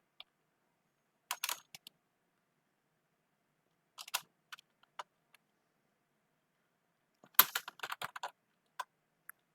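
Several short bursts of computer keyboard typing, clustered clicks separated by pauses as a command is entered, close and fairly quiet with no talking.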